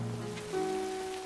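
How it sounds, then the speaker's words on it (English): Steady rain falling on surfaces in a night scene from a vampire TV drama, a continuous close hiss under a low music drone, with no voices. "it's kind of neat how Lestat here isn't getting wet from the rain"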